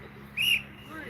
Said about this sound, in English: Resume play on my whistle.